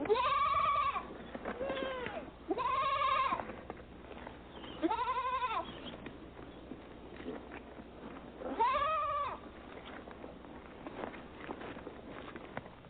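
Goats and sheep bleat in several separate loud, wavering calls spaced a few seconds apart, with quiet farmyard background between them.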